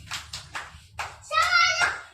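Children clap for a classmate in a classroom, several short bursts of hand claps followed by a voice, fairly faint and close.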